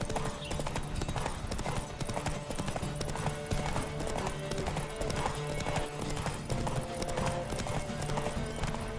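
Roach, a horse in The Witcher 3, gallops in steady rhythmic hoofbeats over continuous outdoor ambience, with a brief whinny in the mix; no talk is heard.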